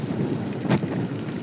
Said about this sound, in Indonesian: Aduh, hujan rek.